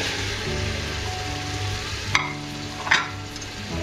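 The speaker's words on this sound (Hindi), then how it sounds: "पंजों को हम मसाले में अच्छे से भून लेंगे।" Chicken feet fry in a spiced masala, giving a steady, close hiss of sizzling oil broken by two brief clatters of stirring, with no voices.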